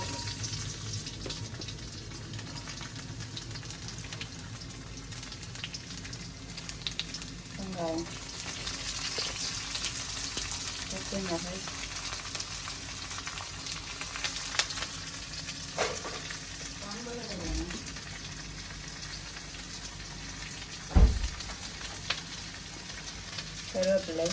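Steady sizzling and crackling of fenugreek seeds and spices frying in hot oil, continuous throughout with occasional small pops and stirring sounds.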